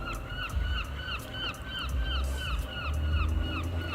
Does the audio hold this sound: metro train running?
no